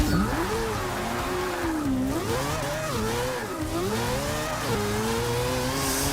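A front-wheel-drive 2014 Nissan Juke Nismo RS in the Forza 6 video game revs hard through a drag run, its engine note climbing and dropping with each gear shift, loud and continuous with no talk.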